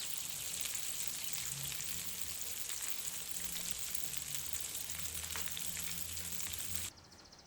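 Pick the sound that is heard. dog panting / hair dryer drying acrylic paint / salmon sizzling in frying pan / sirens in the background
salmon sizzling in frying pan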